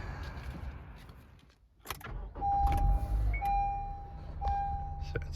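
A 112,000-mile Honda CR-V with a clunky noise, recently fitted with new brake discs, rotors, pads, end links and sway bar bushings, starts out on a short test drive, its engine and road noise rising steadily over a chime and some clicks.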